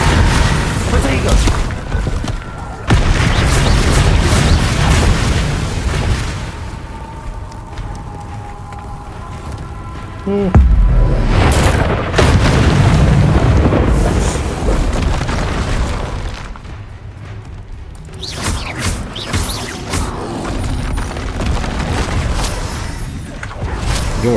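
Confringo and Bombarda spell explosions in the Hogwarts Legacy video game, a loud series of booming blasts and bursts in a chaotic fight, with a voice calling out over the impacts at times.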